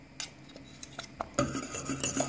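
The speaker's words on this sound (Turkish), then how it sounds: "Bu şekilde karıştırıyoruz." A spoon stirs pudding in a pot, giving soft scraping and rubbing strokes with light clinks that grow busier and louder in the second half, with no talk.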